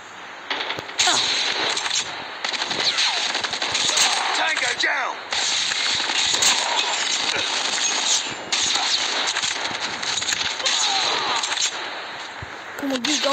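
Rapid KM44 rifle fire in Call of Duty Mobile crackles in long, dense bursts almost nonstop, loud and close, with brief gaps between strings of shots.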